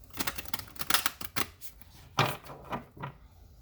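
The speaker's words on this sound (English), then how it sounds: "Okay, one more shuffle." Tarot cards shuffled by hand at close range, giving a quick series of papery riffling bursts and soft taps that come in uneven clusters, with no voices over them.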